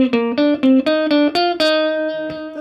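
Eight or so plucked electric guitar notes in quick succession, stepping through a scale while skipping notes, ending on a note left to ring out.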